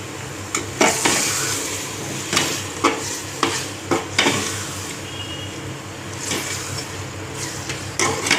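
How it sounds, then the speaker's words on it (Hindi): Powdered spices frying in a pot for Hyderabadi mutton khichda, with a steady close sizzle broken by repeated scraping knocks of a spoon stirring against the metal. "तो अभी हम सारे मसाले, पाउडर मसाले भी इसमें डाल देंगे और इसे अच्छे से हम भून लेंगे"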